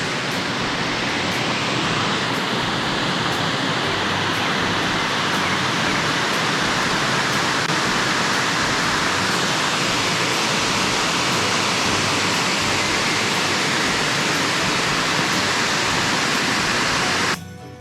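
A roadside waterfall on Bolivia's Death Road roars in a steady, loud, broadband rush of falling water, continuous and unbroken for the whole stretch with no voices.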